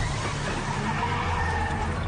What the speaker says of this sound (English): He smashes the back of the car against a tree and spins out.